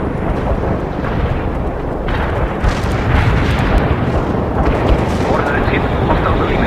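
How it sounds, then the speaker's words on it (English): Artillery strike in the strategy game World in Conflict, heard as a continuous, heavy roar of overlapping explosions and deep rumbling booms that stays loud throughout, with a faint voice mixed in. "Artillery strike on the way."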